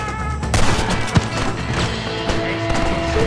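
Gunfire during a chaotic Red Dead Redemption shootout, scattered sharp shots and bangs over a dense, noisy background of battle sounds, loud and close.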